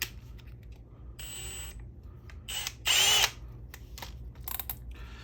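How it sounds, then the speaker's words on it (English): A power drill spins an RC axle clamped in its chuck as a makeshift lathe for CEN Racing F450 parts, giving a steady whir with several louder high-pitched bursts as the speed changes. "turn your Dremel on and spin your drill up"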